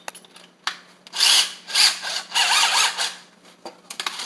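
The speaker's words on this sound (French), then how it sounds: "vous avez des outils qui vont percer" A power drill bores into material while a window blind is being mounted, whirring in several short bursts of about half a second each with brief pauses between, close and fairly loud, no voices heard.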